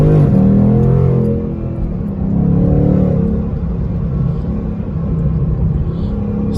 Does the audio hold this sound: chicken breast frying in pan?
no